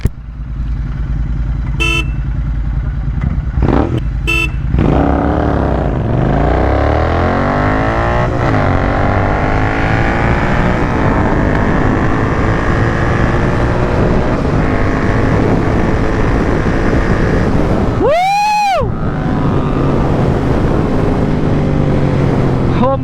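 Royal Enfield GT650 motorcycles accelerating hard in a short street drag race near Hyderabad, a loud sustained engine roar climbing through the gears with wind noise, and a brief horn blast near the end.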